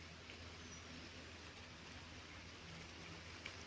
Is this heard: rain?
yes